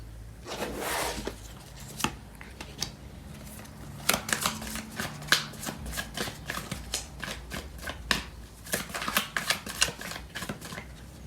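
Tarot cards being shuffled by hand, bursts of crisp riffling and flicking that come in quick clusters with short pauses, close and fairly quiet, no speech.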